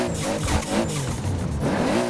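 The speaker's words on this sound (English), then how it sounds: "go onto the bonnet, and it's that JDM turbo flutter" A Toyota Supra's turbo engine in Forza Horizon 4 drones and revs steadily, heard from the bonnet camera, loud and continuous with tire noise underneath.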